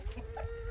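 Young chickens and roosters cluck softly in a short burst, with a faint, steady hum behind them and no voices.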